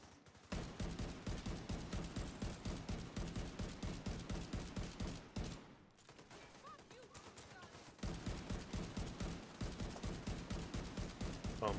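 An auto turret in The Division 2 fires long, rapid, evenly spaced automatic bursts, loud and close, pausing briefly midway before resuming.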